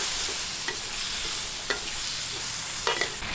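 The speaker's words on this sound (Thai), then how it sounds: "ผัดให้เข้าเครื่อง" Grilled pork entrails with curry paste sizzle steadily in a wok while a spatula scrapes and taps against the metal every second or so.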